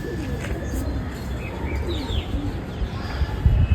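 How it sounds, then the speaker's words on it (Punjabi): Pigeons coo indoors in a loft, soft repeated throaty calls over a low, close ambient rumble. "ਇਹ ਕਬੂਤਰ ਸਾਰੇ ਅੰਦਰ ਆ"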